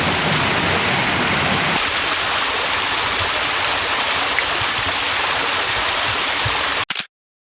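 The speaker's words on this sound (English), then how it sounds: "There are a number of small waterfalls hidden along this stretch, but they're not easy to find." Constant loud rushing wash of small waterfalls and a stream flowing through East Sussex woodland in December, a dense close roar of water with no breaks, ending abruptly.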